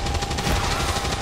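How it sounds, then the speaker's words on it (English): Suppression fire from a rifle in the video game XCOM 2, a rapid, dense burst of automatic shots, loud and close, lasting about a second. "This one I'm going to fire a suppression shot at him because he's a lancer."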